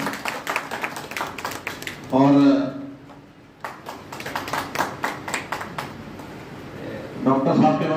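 An audience at a community society event for a birth anniversary claps in bursts of quick, fairly close hand claps, broken up by a voice speaking and short tonal sounds between the rounds.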